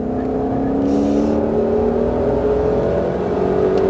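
A Mustang Shelby GT500 accelerates hard on a Las Vegas race track, its engine a loud, steady roar from inside the car that climbs gradually in pitch over the whole stretch, with no speech.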